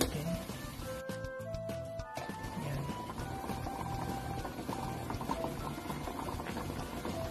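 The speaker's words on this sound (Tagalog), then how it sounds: "kumukulo na." Steady bubbling and hissing of water boiling hard in a steamer, a continuous churning rumble with faint clinks early on.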